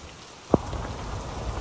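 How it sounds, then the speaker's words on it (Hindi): Steady heavy rain hisses across the whole clip at a hill station in Pachmarhi, with one brief sharp knock partway through; no voices. "तेज बारिश हो गई एकदम से"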